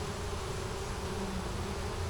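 A dense, steady buzzing of many honeybees at a hive that had swarmed, continuous and close, with no voices.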